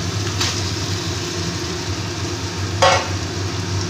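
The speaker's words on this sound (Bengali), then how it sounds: "এবার আমি ম্যারিনেট করা মাংসটাকে দিয়ে দিচ্ছি।" Marinated mutton drops into a pan of fried spice masala, bringing a steady sizzle and a low background hum, with two brief scraping, splashing bursts near the start and again late on.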